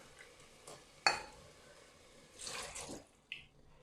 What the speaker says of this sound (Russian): Добавлю стакан гранатового сока